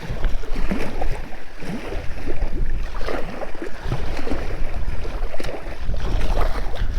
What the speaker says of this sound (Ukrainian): Щось вітер роздувається взагалі не на шутку. Такий, блін, сильний, що капець.